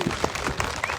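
A crowd at a political rally in Shimla breaks into brief, dense applause for an honouring ceremony, many hands clapping at once with a faint murmur underneath.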